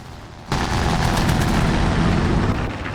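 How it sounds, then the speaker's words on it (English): Machine gun fire in a War Thunder tank battle erupts abruptly after a brief lull, a loud, dense, continuous burst of rapid rounds and booming impacts that carries on for several seconds before easing slightly at the end. "And there's the machine gun I warned you about"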